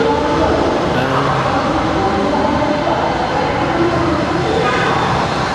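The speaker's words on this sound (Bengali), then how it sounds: "আমার উপরে হইলো উত্তর সেন্টার, ফাইনাল যে মেট্রো রেল স্টেশন ওইটাই আর কি।" A metro train runs on the elevated line above Uttara Center, the final metro rail station, making a loud, continuous rumble that fills the whole stretch without letting up.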